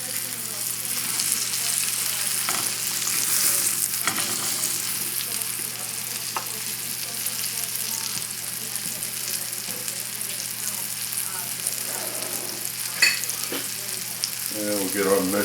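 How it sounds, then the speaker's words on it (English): Butter browns and sizzles in a pan while rack of veal Marsala cooks, a steady close frying hiss throughout with occasional stirring clinks and scrapes. "If you notice how much butter is in there, that's good, and it's browning"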